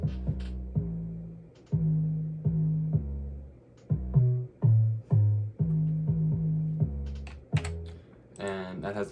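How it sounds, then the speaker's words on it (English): A distorted 808 bass line from an FL Studio beat plays alone. Loud, deep sustained notes step between pitches in a choppy rhythm, with a few bright percussive hits near the end. "I ended up settling on the 808 just because it was a lot more fun than all the other stuff."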